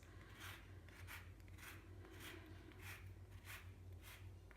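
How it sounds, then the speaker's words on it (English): A lemon is zested on a microplane grater, about eight quick rasping scrapes in a steady back-and-forth rhythm, close and fairly quiet over a low constant hum. "I'm using this just microplane grater"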